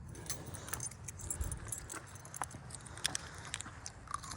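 Car keys for a 1970 Buick GS 455 Stage 1 convertible jingle and clink in light, scattered bursts over a low steady rumble, close by and fairly quiet.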